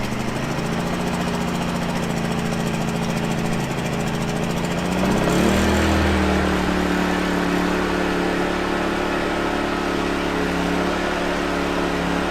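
A WEN 56203i 2000-watt inverter generator runs steadily at close range, with economy mode off, its even mid-pitched engine drone holding constant after a brief surge in the middle.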